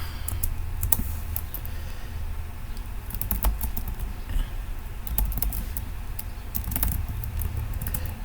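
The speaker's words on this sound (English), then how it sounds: "You can type work in all caps like I did" Steady typing on a computer keyboard with rapid irregular key clicks and a few sharper strokes, continuous over a low background hum, no talk.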